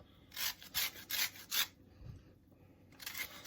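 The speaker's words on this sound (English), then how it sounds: "So I'm going to take and do the lemon like this here. Scrape it off like this here." A lemon being scraped for zest while cooking a lemon garlic chuck roast, with four quick, close rasping strokes in a steady rhythm, a short pause, then another scrape starting.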